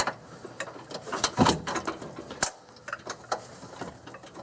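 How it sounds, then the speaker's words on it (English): Bolt being threaded in while installing a towing hitch on a 2001 Infiniti QX4, a few metallic clicks and ratcheting scrapes in uneven bursts, close and moderately quiet. "Getting the first bolt started can be interesting sometimes."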